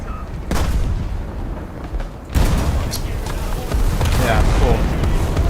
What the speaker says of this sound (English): Artillery barrage in your sector!